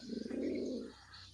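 A pigeon gives one low, soft coo nearby against a quiet background, fading after about a second.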